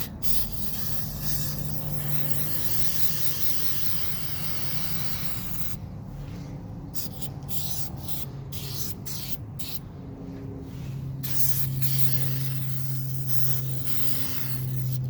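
Oil is sprayed onto a cleaned engine air filter from a 2007–2008 Volkswagen Rabbit, heard as a continuous close hiss with several brief gaps and short bursts near the middle.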